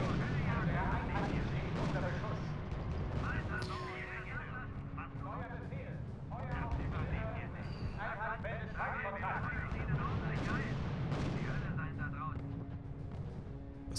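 Artillery fire in the R.U.S.E. video game: repeated heavy booms and rumbling blasts fill the battlefield, with someone speaking over them.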